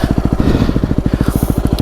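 A Yamaha WR250R dirt bike engine runs at a steady, rapid putter close by, alone, just after a slow crash into mud and brush.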